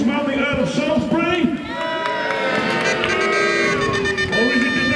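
A crowd at a staged Royalist versus Rebel fight at Lincoln Castle cheers for its champion, a steady mass of voices shouting and whooping close by, with an announcer speaking over the noise throughout.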